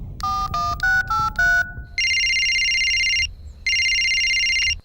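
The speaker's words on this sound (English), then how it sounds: "Can someone answer their phone?" A cartoon telephone rings loudly and alone, first with a quick run of rising electronic beeps, then two long, steady, buzzing rings separated by a short pause.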